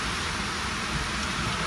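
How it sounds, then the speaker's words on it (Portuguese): Heavy rain pours down outdoors in a dense, constant hiss of drops hitting surfaces, loud and unbroken from start to finish with no voices. "chovendo pra caceta"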